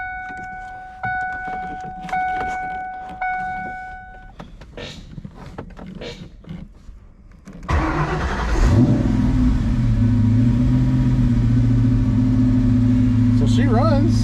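A truck's iron-block 6.0 engine, one that won't hold an idle, starts with clicks and mechanical clatter amid voices, then roars to life and keeps running loud and close with a rising rev and a steady, rumbling drone.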